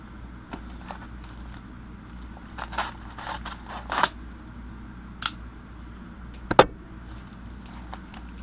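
A double-packaged product box is opened nearby, with scattered sharp crackles, crinkles and rustles of packaging against a quiet background and no talking.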